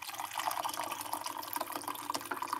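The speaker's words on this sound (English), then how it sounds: "We're gonna put some hot water inside of it." Hot water pours steadily into a cup for a drink with honey, a continuous bright splashing and trickling stream that runs throughout at moderate volume with no talk.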